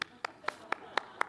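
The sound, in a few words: audience clapping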